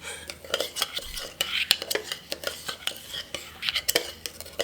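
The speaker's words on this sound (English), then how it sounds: "Plus finely chopped garlic. And then I'm gonna stir this all up" A spoon stirring a garlic marinade for tuna steak in a bowl, with repeated sharp clinks and scrapes in an irregular rhythm, close and fairly loud, with soft breathy sounds between strokes.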